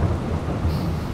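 Heavy rain pours over an open farm field during a root harvest, a loud, dense rumbling wash with a deep low roll like distant thunder underneath, steady through the brief stretch.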